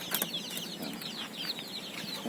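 Chickens, including Japanese Shamo Asil fowl, cluck and chatter in a rural backyard, several birds close by with quick repeated calls and no talking.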